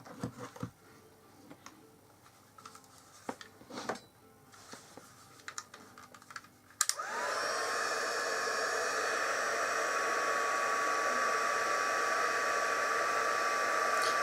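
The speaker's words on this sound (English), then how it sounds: "We're going to turn our heat gun on." Scattered clicks and handling noises give way to a heat gun for heat embossing switching on with a sharp click, then a loud, steady blowing whoosh that continues unbroken to the end.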